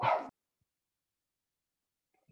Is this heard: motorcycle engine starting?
no